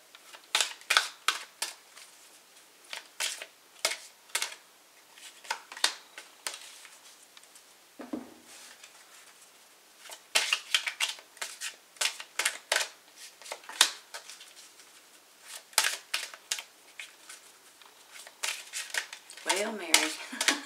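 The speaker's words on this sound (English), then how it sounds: "I don't know why I can't shuffle today." Repeated crisp riffling and snapping of tarot cards in quick bursts, close by, with short pauses between shuffles and a brief low thump midway.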